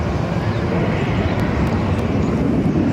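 Singapore Airlines Airbus A350-900, nine years old, departing Barcelona airport: a steady, loud broadband jet roar held continuously without pause, with no voices over it.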